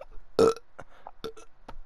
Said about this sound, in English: I'm burping all the time